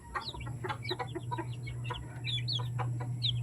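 Chickens and young chicks at a backyard farm cluck and peep busily after feeding, with many short chirps overlapping close by above a low steady hum.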